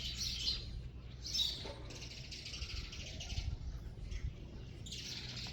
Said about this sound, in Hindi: बेरी के ऊपर चिड़ियाँ बड़े ही प्यार से चहचहा रही हैं।